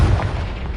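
Confringo fire spell exploding in the Hogwarts Legacy video game, a short heavy boom with a rumbling low burst, loud and close with no talk.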